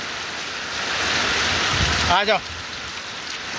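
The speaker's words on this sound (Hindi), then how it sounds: "ये देखिए कैसी बारिश चल रही है" Heavy rain pouring onto a rooftop terrace, a dense steady hiss up close, with a short spoken call cutting in partway through.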